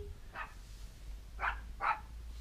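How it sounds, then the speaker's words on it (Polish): A dog barks three times at a distance, one bark and then a pause before two closer-spaced barks, fairly faint over low background rumble. "A, pies się odezwał."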